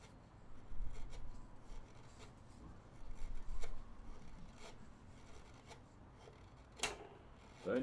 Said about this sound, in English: The only hard part about what we're doing right now is carving on end grain.